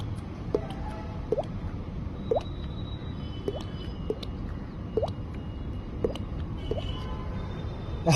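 Water drops fall one after another at a steady, unhurried pace, each a small clear plink over a faint low background hum.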